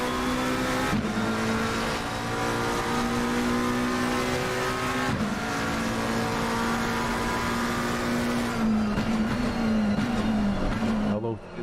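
Race car engine in a racing video game at the Nurburgring, revving hard and loud through gear changes with tire squeal, the whine rising and dropping as the car is pushed through corners.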